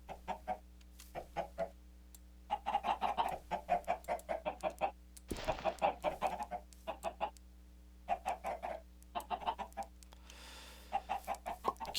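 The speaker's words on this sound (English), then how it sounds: "I actually have chickens." Chickens in the game Minecraft cluck in repeated short bursts throughout, fairly close and clear, with brief pauses between clusters and a low steady background hum.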